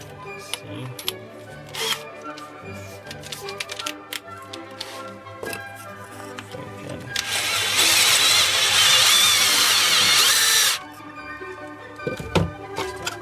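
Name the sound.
tapered cone drill spinning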